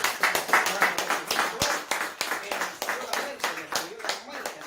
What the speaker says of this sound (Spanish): Aplausos a Cristo que resucitó